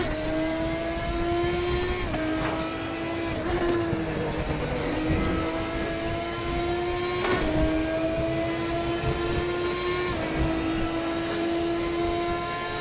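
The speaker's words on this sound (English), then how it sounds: "the sound of the DTM car in that game is fairly nice" A DTM racing car engine in RaceRoom Racing Experience screams at high revs, pitch climbing then dropping with each gear shift, steady and fairly faint, no voices.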